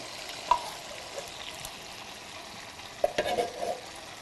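Chopped tomatoes tipped into a pan for chicken cacciatore, then stirred: a soft wet plop near the start and a louder scraping stir of the thick sauce later, over a faint steady background sizzle, with no talking.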